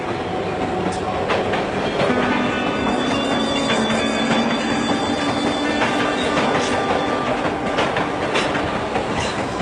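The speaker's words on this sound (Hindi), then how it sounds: "इसके शहर को जाने वाली ट्रेन प्लेटफॉर्म नंबर 2 पर आएगी।" A train rolls along a railway platform, with steady loud rumbling, rhythmic wheel clatter over the rails and occasional metallic squeals, close and continuous throughout.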